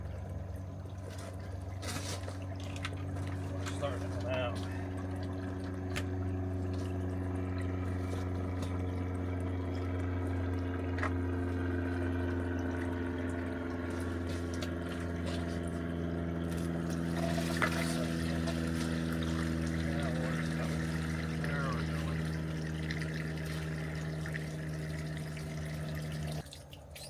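Water trickles and drains out of an opened pool filter during its replacement, a steady soft liquid flow with faint clunks and handling noises, no speech.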